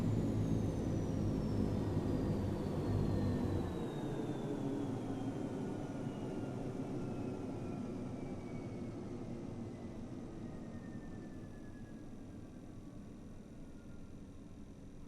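Airliner engines in a flight simulator game spool down at the gate after parking: a steady roaring rumble drops at one point, then slowly fades while a thin turbine whine glides steadily lower over about fifteen seconds.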